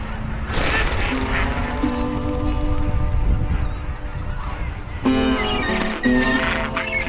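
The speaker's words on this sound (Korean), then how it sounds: "오리 한 마리가 참매에게 붙잡혔습니다" Loud, harsh honking and quacking calls ring out close by as a white-cheeked scoter duck is seized by a goshawk, with a noisy outdoor wind backdrop and pulsing cries in short bursts.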